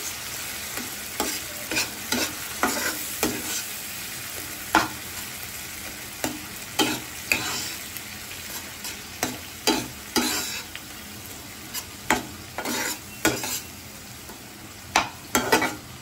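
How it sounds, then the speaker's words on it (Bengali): A utensil stirs omelette korma masala in a pan after water goes in, steady wet scraping strokes recurring in an irregular rhythm over a constant low sizzle, close and fairly loud, with no talking. "জল দিয়ে ভালোভাবে সমস্ত কিছু মিশিয়ে নিচ্ছি"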